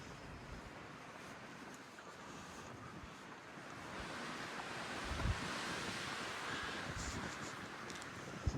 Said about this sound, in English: Still a little breezy.